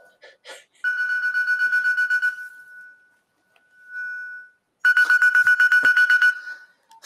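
A mobile phone ringtone goes off in an audience at a public speaking talk, playing a bright, chiming electronic melody in repeated bursts with a pause between them, loud and clear in a quiet room.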